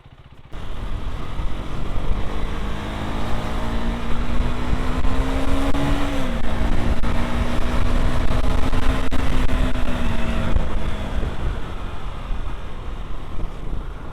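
A KTM Duke 390 motorcycle being ridden, with a steady, loud engine drone and heavy wind rush close to the rider, the engine note holding fairly even with a slight dip partway through.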